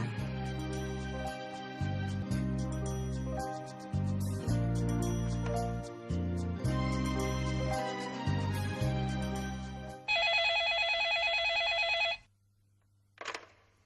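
Music with a heavy bass line plays, then a telephone gives a short, loud electronic ring before falling quiet, followed by a brief final chirp.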